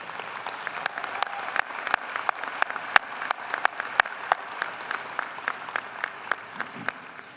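An audience at Fitchburg State University's winter commencement gives steady, sustained applause, many hands clapping together with distinct nearby claps popping out over the crowd.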